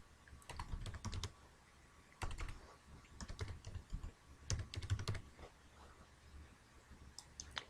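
Someone typing a folder name on a computer keyboard, quick clusters of light clicking keystrokes in short bursts separated by pauses, close and quiet.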